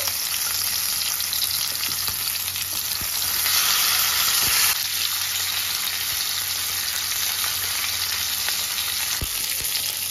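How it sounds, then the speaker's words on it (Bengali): Pomfret fish fry in hot mustard oil with a dense, constant sizzle and crackle, loud and close, with a few light clicks of a utensil as the pieces are turned over. "এক পিঠ আমার ভাজা হয়ে গেছে, এবার একটু উল্টে নেব।"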